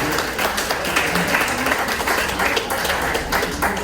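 Audience applause fills a gubernatorial forum hall in Palm Beach, a dense, steady wash of many hands clapping throughout with no clear break.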